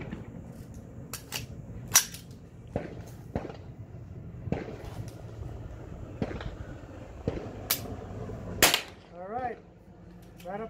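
Armscor .22lr 36 grain rounds fired from an AR-15 with a CMMG bolt carrier group: a string of sharp, fairly faint cracks spaced unevenly over several seconds, with quieter gaps and some background noise between shots.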